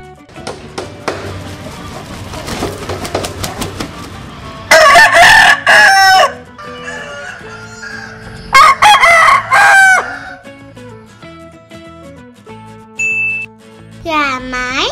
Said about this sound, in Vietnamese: Gà trống.